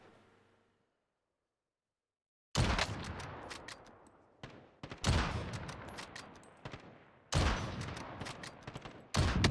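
Video game gunfire crackles in loud, close bursts of rapid shots after a few seconds of near silence. Several volleys are separated by short pauses.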